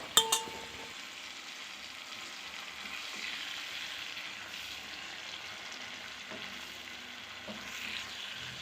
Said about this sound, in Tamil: எண்ணெய் நல்லா ஹீட் ஆனதும் நம்ம சுண்டக்காய் வத்தலை இதில் சேர்த்து நல்லா வந்து ஃப்ரை பண்ணிக்கலாம்